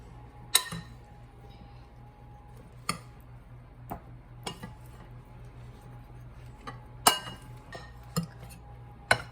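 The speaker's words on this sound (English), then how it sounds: "Stir that up. Stir that up good." Peaches stirred with lemon juice in a bowl: sparse, sharp clinks of a utensil against the dish at irregular intervals over a low steady background hum.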